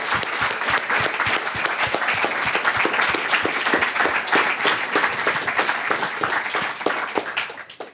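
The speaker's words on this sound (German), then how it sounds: "Und vielleicht kriegen die mal den Applaus." Sustained applause from an audience at the closing event of a youth hacking program in Ulm, honoring the organizers; dense, steady clapping that fills the whole stretch before fading slightly at the end.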